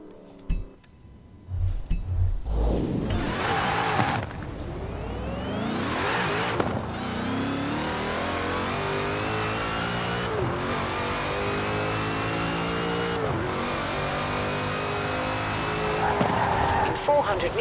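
In Forza Horizon 4, a 1000-horsepower car's engine revs and accelerates through rising and falling gear sweeps, with a brief tire skid. Someone talks over much of it.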